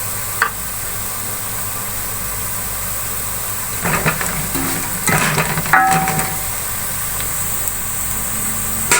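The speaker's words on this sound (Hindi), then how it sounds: "लहसुन को थोड़ी देर भून लेंगे।" Garlic frying with garam masala in a pan gives a steady, close sizzle, with a few scraping stirs and brief clatters near the middle and no talking.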